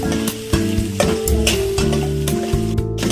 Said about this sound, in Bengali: আদা বাটা কিছুক্ষণ নাড়াচাড়া করবো